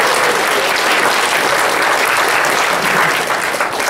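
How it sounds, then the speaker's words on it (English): A seated audience at an AX2019 panel gives loud, sustained applause to welcome the panelists, with dense, steady clapping and no voices rising above it. "I ask you all please to clap, for my awesome panelists up here today"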